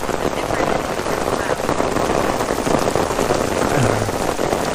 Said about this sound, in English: the rain just turned up in intensity again